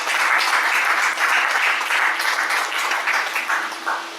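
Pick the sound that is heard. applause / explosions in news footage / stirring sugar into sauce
applause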